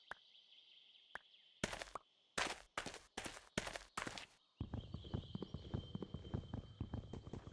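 Horse hooves in the video game RLCraft: a few loud, sharp separate strikes, then a quick, steady clip-clop rhythm of a horse moving along.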